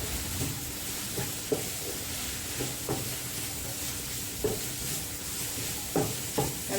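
Onion, cabbage and carrot for a veg egg momo filling are stirred and fried in a hot pan, giving a steady sizzle broken by scraping spoon strokes at irregular intervals, with no talking.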